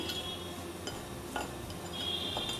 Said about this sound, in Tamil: இது நல்லா மிக்ஸ் பண்ணி விட்டுக்கலாம்